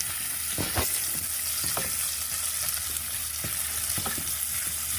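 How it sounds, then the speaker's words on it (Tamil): Ginger and garlic fry in a pan, making a continuous sizzle broken by several sharp scraping knocks as they are stirred, close and fairly loud, with no speech. "இஞ்சி பூண்டு சும்மா ஒரு வாசனைக்கு ஒரு 4 பூண்டு போட்டுக்கோங்க."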